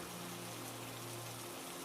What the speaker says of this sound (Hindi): देखते ही देखते जोरदार बारिश शुरू हो गई।